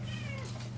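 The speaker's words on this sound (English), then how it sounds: "There's the cat." A house cat lets out a single drawn-out meow, clear and fairly close, over a low steady hum in an indoor room.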